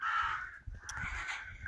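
Crows caw nearby outdoors, a couple of harsh, rasping calls in quick succession, fairly faint and with no voices present.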